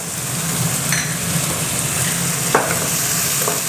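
Fish balls stir-frying in a hot pan with vegetables and a splash of water, giving a steady loud sizzle throughout with a few faint scrapes of stirring.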